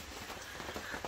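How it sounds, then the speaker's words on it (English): Rain patters on a canvas wall tent at a campsite, a steady soft hiss of drops with a few sharper taps, heard close and alone. "It is raining outside."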